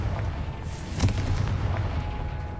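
A Confringo spell blast in the video game Hogwarts Legacy bursts out as a single sharp, booming explosion, with low rumbling debris and ambient game sound lingering after the hit.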